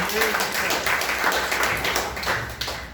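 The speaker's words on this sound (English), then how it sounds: "One big round of applause to our President of Botanical Garden" An audience at a seminar gives a guest, the president of a botanical garden, a round of applause, with steady clapping from many hands and voices mixed in.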